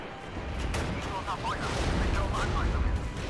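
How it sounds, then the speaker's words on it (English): Video game artillery barrage of rumbling, overlapping blasts and booms forming a dense, continuous low roar, with someone talking over it. "that's an artillery battery if I've ever seen one. Oh, artillery barrage."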